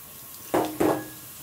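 Sliced onions tipped into hot oil for a spicy prawn masala curry, two quick close bursts of sizzle and clatter in a pan, brief and fairly soft with no voices.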